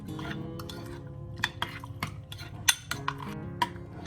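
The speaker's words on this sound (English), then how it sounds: "I'm just gonna quickly mix all of this together" A dahi (yogurt) mixture being stirred in a bowl, with soft scraping and occasional light clinks of a utensil against the dish, close and quiet, without talk.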